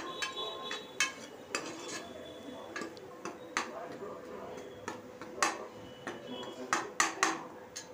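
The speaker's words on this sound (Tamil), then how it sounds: "நல்லா கலந்து விட்டுருங்க." A spoon stirs ginger garlic paste into chicken curry in a pot, giving scattered sharp metallic clinks and taps at an irregular rhythm over a quiet background.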